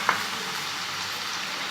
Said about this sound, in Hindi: फुल फ्लेम पर प्याज को पकाएंगे